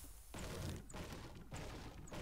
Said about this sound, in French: J'entendais des coups de feu, mais peut-être qu'ils sont pas là.